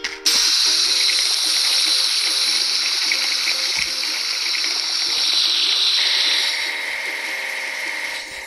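Water sprays steadily onto a digger in a continuous gushing hiss that holds constant for several seconds and then eases slightly near the end, with no talk.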